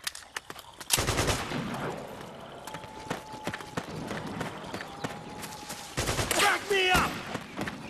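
Gunfire in the Metal Gear Solid IV: Guns of the Patriots video game, with loud bursts of automatic fire at the start and near the end, scattered shots and battle noise between, and shouted voices over the action.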